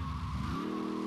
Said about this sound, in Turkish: Kayıyor bu araba.